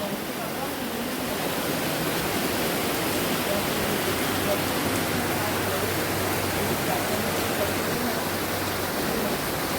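A steady, dense roar of heavy rain, loud and unbroken throughout, with no pauses or changes in intensity.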